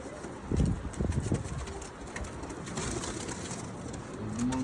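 Pigeons cooing nearby in soft, low, throaty bursts, strongest early on, over a faint outdoor background.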